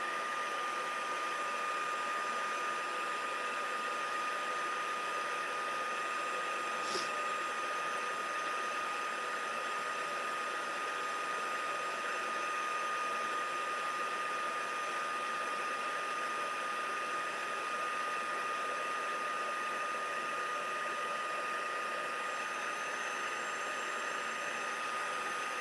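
Heat tool setting white embossing powder on a blue card, a steady, loud, even blowing whir that runs unbroken throughout with no talking.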